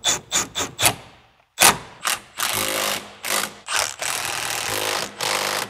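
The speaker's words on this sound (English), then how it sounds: "now we can slide in our new bearing with the hub" A new wheel bearing and hub slide into a Mitsubishi Eclipse GSX with a series of sharp metallic knocks, scrapes and clunks, clustered taps early then heavier grinding contacts, close and moderately loud.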